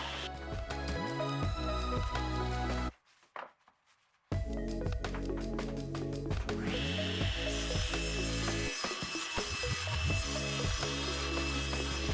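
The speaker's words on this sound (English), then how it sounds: "This 1/2 inch piece of plywood that I'm cutting here" A saw cuts through a half-inch plywood panel for a Toyota Tacoma truck-bed drawer system, giving a loud, steady, grinding mechanical whir that breaks off briefly partway through, then resumes at a similar level and continues to the end.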